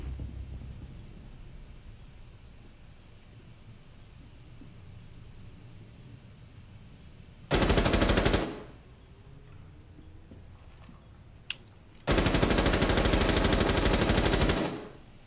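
Gunfire in Rainbow Six Siege: two loud sustained bursts of automatic fire over a quiet background, the first short and the second longer, with a sharp crack between them and no talking.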